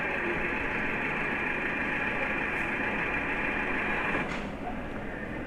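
A car engine runs rough and vibrates in a steady, droning hum with a coarse, buzzing texture, holding constant and dipping slightly near the end.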